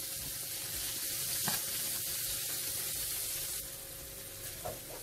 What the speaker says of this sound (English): My onions are translucent, my peppers have been sauteed